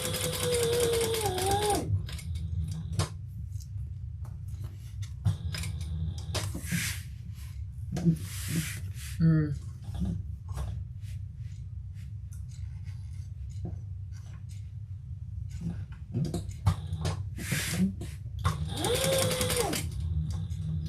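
Sewing machine stitching around the overlay on a handbag in a few brief, fairly quiet bursts separated by long stretches of handling, rustling and scraping, with no talking.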